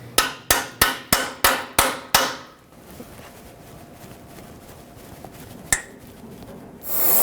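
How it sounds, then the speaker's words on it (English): A 14 mm socket is hammered onto a seized catalytic converter bolt on a 2013-2020 Nissan Pathfinder, giving seven sharp, evenly spaced metallic strikes. A single louder clank follows after a pause. "on this one I'm actually going to put a 14 and hammer it on"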